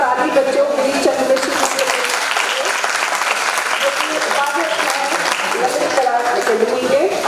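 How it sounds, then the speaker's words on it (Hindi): Audience applause at a college Sanskrit drama event, lively sustained clapping from a crowd mixed with loud voices speaking over it. "तो एक बार जोरदार ताली बच्चों"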